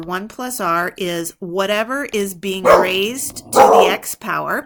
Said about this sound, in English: Whenever my dog sees an animal on TV, he barks.